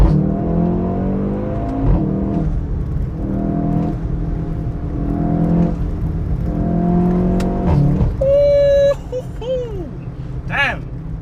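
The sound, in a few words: VW Golf 7.5 R engine and exhaust while driving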